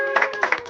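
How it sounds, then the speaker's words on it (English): Hand clapping during a travel day in Fes, Morocco, a few quick claps in under a second, close and clear. "Clap your hand, please."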